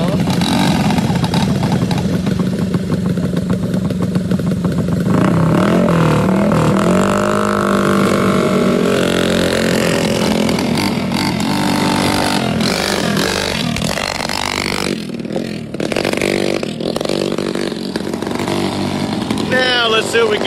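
A race vehicle engine at a racetrack snarls and revs loudly nearby, with rising and falling pitch over a constant rumble and some clattering. Voices are faintly mixed in.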